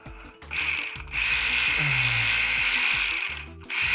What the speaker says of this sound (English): I've got a 1/4 inch cordless ratchet that I'm going to use just to kind of obviously have a little leverage.